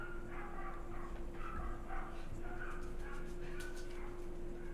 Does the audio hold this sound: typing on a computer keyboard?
no